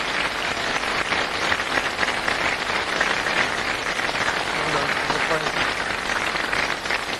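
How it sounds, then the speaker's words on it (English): Studio audience of a television word game show applauds an undefeated champion, a dense, even wash of clapping that holds steady throughout without any voices on top. "Please applaud this great hero, Richard Heel."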